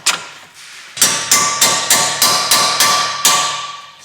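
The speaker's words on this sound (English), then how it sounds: "bang our bolts back into our shock absorber strut" Sharp metallic hammer blows ring out in a steady series of about eight strikes, driving bolts into a Ford Mondeo Mk5 shock absorber strut, each with a short ringing decay, close and loud.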